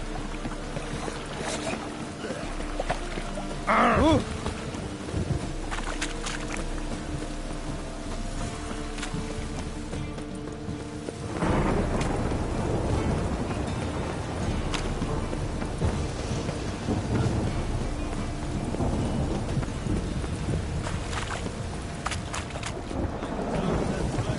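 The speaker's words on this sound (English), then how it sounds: "A storm, damn it." A video-game thunderstorm in Gwent: steady, dense rain with low rumbling thunder that swells partway through and continues as a constant wash.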